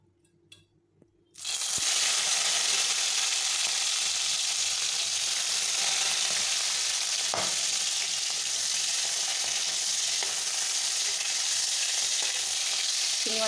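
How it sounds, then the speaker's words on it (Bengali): Prawns dropped into hot mustard oil and lightly fried: after a quiet moment, a sudden loud sizzle that stays as a steady, bright crackling hiss with occasional soft pops and stirring, no talk. "চিংড়ি মাছগুলো হালকা করে ভেজে নেব।"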